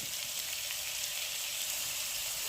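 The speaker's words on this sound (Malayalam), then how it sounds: "കൂടെ ഇട്ട് നന്നായിട്ട് വഴറ്റി." Tomatoes sautéing in a pan for a Kerala-style prawn roast, a steady, even sizzle with no pauses and no talk.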